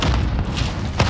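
Grenade blasts in a first-person shooter match, heard as loud, close booming bursts that fill the whole clip, with one sharper hit near the end.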